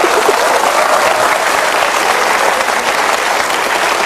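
Sustained applause from a crowd, dense and steady clapping throughout without a break.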